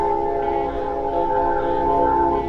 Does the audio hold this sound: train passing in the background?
yes